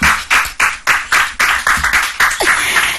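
An audience claps in unison for a correct answer at a quiz event, sharp rhythmic bursts of clapping repeating roughly three times a second, loud and close.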